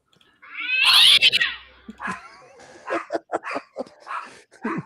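A cat meows near the microphone with a drawn-out, wavering cry, followed by several shorter yowls or whimpering calls in an indoor setting.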